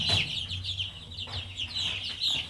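Young poultry chicks, about a week old and due for their first vaccine, cheeping in a steady chorus of high, repeated peeps, fairly faint and close, with no talking.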